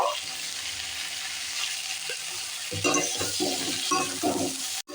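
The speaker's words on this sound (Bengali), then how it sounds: "লবণ দিয়েছি আর সামান্য একটু হলুদ গুঁড়ো দেবো দিয়ে হালকা করে এটা ভেজে নেব" A vegetable fries lightly in hot oil with salt and turmeric, producing a steady sizzle that is joined midway by stirring scrapes and clatter, then cuts off abruptly near the end.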